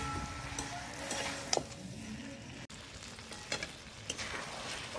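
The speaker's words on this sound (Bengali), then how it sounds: "চাপা দিয়ে শুধু কষাবো।" Chicken sautés in a covered pan, giving a low, steady sizzle broken by a few sharp clinks and scrapes of stirring, fairly quiet and with no voices.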